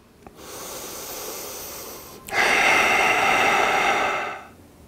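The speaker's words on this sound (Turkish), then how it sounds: "Derin nefes al." During a morning yoga session, a deep, slow breath is drawn in with a soft airy hiss, then released in a louder, longer exhale, close and alone.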